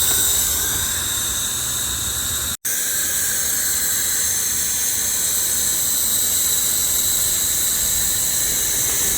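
The blower on a coal-fired live steam locomotive hisses in a loud, steady, broadband rush with a faint whine, interrupted by one brief dropout, and no talk.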